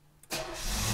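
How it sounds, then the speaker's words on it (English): A carbureted 1985 Pontiac Grand Prix cold-starts: a brief starter crank, then the engine catches and settles into a loud, steady idle close by. "Typical carburetor, you gotta pump her a couple times, and this is a cold start."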